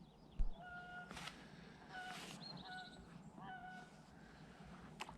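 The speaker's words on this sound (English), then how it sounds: "Can hear a goose." A goose honks repeatedly over a quiet riverside setting along a canal, several distinct nasal calls spaced across a few seconds, moderately distant over soft ambient background.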